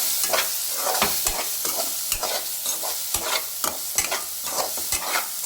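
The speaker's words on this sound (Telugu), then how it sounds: "మంచిగా కలుపుకోవాలి దీన్ని." Fried green chillies with turmeric are stirred in a pan, a spatula scraping and knocking in a regular rhythm of about two strokes per second over a soft, close sizzle.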